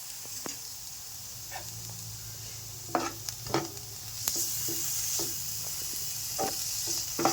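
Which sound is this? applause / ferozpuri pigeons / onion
onion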